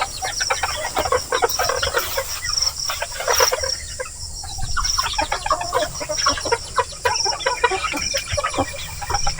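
Native chickens cluck steadily on a farm where Muscovy ducks and guinea fowl are also kept, with many overlapping close and mid-distance calls and an occasional crow among them.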